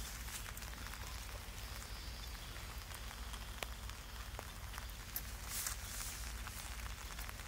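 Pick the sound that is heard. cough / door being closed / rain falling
rain falling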